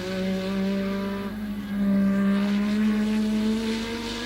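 A 1980s Formula 1 car on its final lap into the Hockenheim stadium section at the German Grand Prix, its engine a steady, loud, sustained drone that climbs in pitch as it accelerates.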